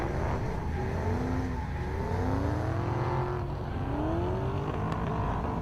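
Ford Mustang drift car at a French drift championship round, its engine revving and sweeping up and down in long, loud swells throughout as it slides, sustained and close with no break.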